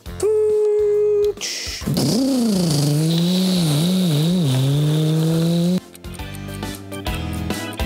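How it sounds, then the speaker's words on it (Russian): A toy truck game plays a loud synthesized engine rev that rises and wavers for several seconds, with electronic game music before and after. "И вот наша фура уже подъехала."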